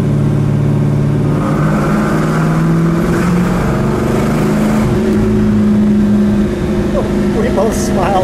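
1968 Oldsmobile 442 W-30 on a ride, its engine droning loudly from inside the car with shifting tones as it drives, while people talk over it.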